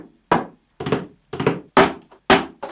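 A cardboard box struck by hand as a drum sample, six dull hollow thumps spaced about half a second apart, close and isolated against silence.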